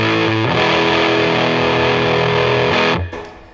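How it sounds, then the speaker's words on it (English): An electric guitar played through a JHS overdrive pedal with its push knob turned up gives a loud, thick, distorted chord that rings steadily for about three seconds. The sound then cuts off and decays quickly. "like a distorted amp in a stadium"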